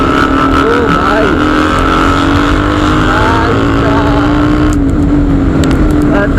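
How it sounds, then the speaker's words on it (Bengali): A Bajaj Pulsar RS 200 motorcycle on a group ride across Basirhat bridge, its exhaust a loud, steady, throaty drone with wind rush, sustained close up throughout. "RS এর এক্সজস্টের সাউন্ডটা চেক করো গাইজ"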